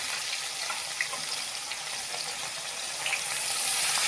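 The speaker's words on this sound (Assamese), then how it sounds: "এতিয়া এপিচ মই মাছ কেইপিচ ভাজি ল'ম।" Pieces of fish fry in hot oil, giving a steady close sizzle with scattered pops and spits that grows a little louder near the end.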